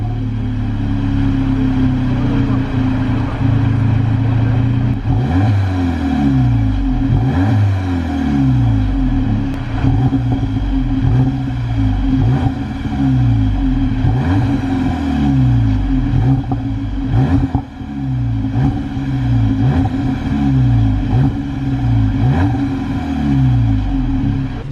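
A 2018 VW Polo GTI with its 200PS engine being revved repeatedly while stationary, a loud, deep rumble swelling and dropping in regular blips over a steady idle, no voices.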